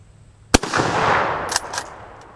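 A Swiss Schmidt-Rubin 96/11 straight-pull rifle fires a single sharp, loud shot outdoors, followed by a rolling echo. Quick metallic clicks and clacks from working the action come a second later.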